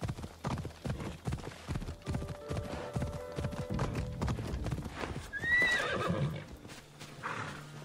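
Rapid rhythmic hoofbeats of a galloping horse, then a loud, shrill neigh rising over the clatter, close and vivid game audio from Assassin's Creed Odyssey.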